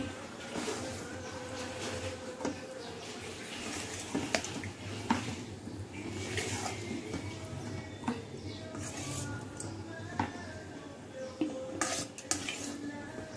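Rui fish curry with tomato, cooked down to a thick, low-gravy bhuna, is served from the pot, with intermittent clinks and scrapes of a utensil against metal over a steady background hum.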